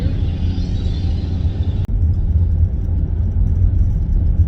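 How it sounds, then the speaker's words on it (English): A semi-truck passes close alongside a car on a rural Florida highway, a loud, steady low rumble of engine and road noise that holds throughout with a brief dip midway. "we are currently getting passed by a semi-truck"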